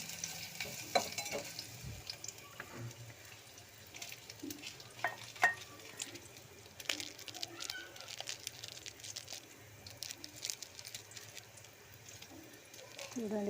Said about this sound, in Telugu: చిన్న తరుముకున్న ఉల్లిపాయలు వేసేసాను.